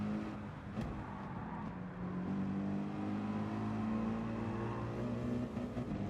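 Mercedes AMG GT3 race car engine in Gran Turismo 7 on PS5, a steady droning note that climbs and shifts pitch as it revs through gears, continuous and fairly loud with no talk.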